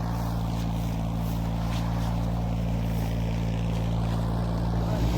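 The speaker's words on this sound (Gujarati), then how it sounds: "તો આપણે બીજું ટ્રેક્ટર મિત્રો આવી ગયું છે, હાર્દિકભાઈ લઈને આવ્યા છે." A second tractor pulls in on a farm plot where overgrown grass is being cut, its engine a steady, loud, continuous drone with deep low rumble throughout, close by and unbroken.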